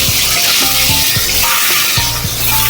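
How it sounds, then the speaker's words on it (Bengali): Eggs fry in hot oil in a loud, dense, continuous sizzle right up close, with soft, regular stirring knocks pulsing underneath and no one speaking. "এবার ডিমগুলো ভেজে নিই"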